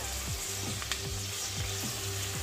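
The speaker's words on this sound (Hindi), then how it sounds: "बीच बीच में चलाते हुए इसे हमें अभी और फ्राई करना है" Mutton pieces fry and sizzle in a pan for a curry while a spoon stirs them every few moments, giving a steady crackling hiss broken by regular scraping strokes, with no talking.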